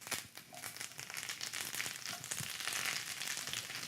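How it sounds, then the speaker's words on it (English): Squash shoots sauté in a hot pan, a close, soft sizzle with crackling and rustling as the greens are tossed. "Put the squash shoots in the pan."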